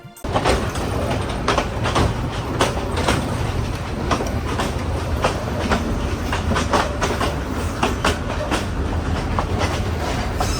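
Ramna local train in Kurigram crawling at about 12 to 15 km/h over badly maintained, uneven track, with steady loud rumble, rhythmic clickety-clack of wheels on rail joints and rattling carriages throughout.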